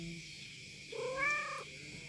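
A village cat gives a single short, clear meow, rising then falling, close by against a steady low background hum.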